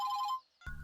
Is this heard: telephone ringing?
yes